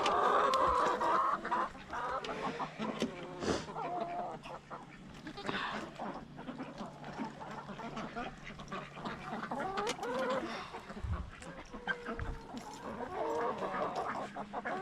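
Farm chickens cluck in scattered bursts at close range among ducks and other fowl, with light movement and brief human talk in the background.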